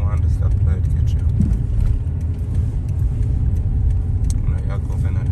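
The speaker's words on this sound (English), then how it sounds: "Give your car some gas, babe." A car engine hums and rumbles steadily while driving on an American road, a low continuous drone with road noise, loud and close throughout.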